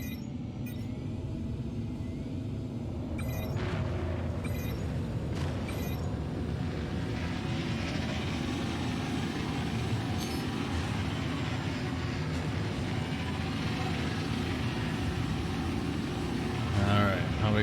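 Spaceship thrusters in Star Citizen, flying an RSI Scorpius fighter, roar as a steady, loud low rumble that fills the whole stretch, with brief electronic chirps over it and talk in the background.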